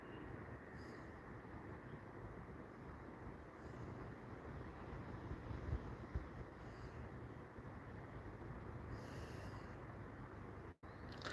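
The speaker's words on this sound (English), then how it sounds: "I have some wind around and it be really, really hot" Constant low roar of strong wind buffeting the microphone, steady and unbroken throughout.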